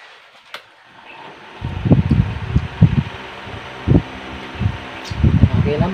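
A repaired 12-volt battery-powered electric fan runs with a steady whir close to the mic, broken by repeated low thumps and handling bumps, with a voice audible in the background.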